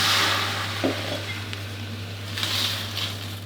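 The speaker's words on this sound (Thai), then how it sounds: "แล้วก็ผัดคั่วให้ กุ้งสุกดีเลยนะครับ" Shrimp stir-fried with salt in a pan, cooked as Thai salt-roasted shrimp with a splash of water added: a steady soft sizzle with a few scraping stir strokes, close and moderate, no talking.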